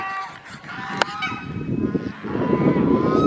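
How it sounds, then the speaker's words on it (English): Chickens and roosters on a farm give close, honking fowl calls, with one sharp squawk and steady clucking and rustling that grows fuller toward the end. "And y'all see all these different chickens?"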